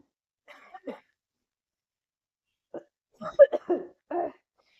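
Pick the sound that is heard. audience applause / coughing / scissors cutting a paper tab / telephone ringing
coughing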